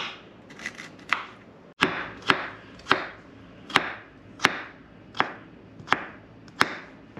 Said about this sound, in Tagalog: at kanyang inuumpisa ng hiwain yung mga ingredient nung kanyang putahe, lumpiang sariwa